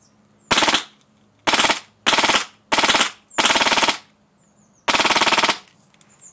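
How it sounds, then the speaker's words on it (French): A custom airsoft machine gun firing BBs, fired in six sharp, buzzing full-auto bursts of varying length with short silent gaps between them, loud and close with no talk. "donc là j'ai tiré quand même pas mal de billes et sans grailler"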